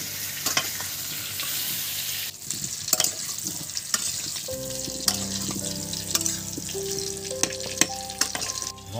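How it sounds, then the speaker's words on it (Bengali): Large chunks of potato fry in a pan for a jackfruit and prawn curry, giving a loud, continuous close sizzle with occasional stirring scrapes. Background music enters midway, and no one speaks. "আলুগুলো ভাজা হয়ে গেছে"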